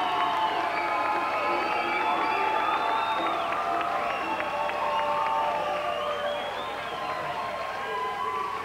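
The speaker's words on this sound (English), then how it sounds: "give him a round of applause" A wrestling arena crowd at an early-2000s World Legion Wrestling show cheers, whoops and applauds in a steady, loud, sustained roar that fills the space and carries on throughout without a break.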